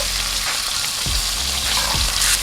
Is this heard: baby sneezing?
no